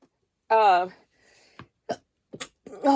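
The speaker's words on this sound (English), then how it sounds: "I got to sneeze" A single close sneeze with a drawn-out voiced wind-up, followed by a few short, sharp sounds and brief mouth noises.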